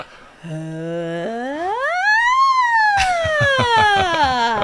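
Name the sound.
voice imitating a siren, low to high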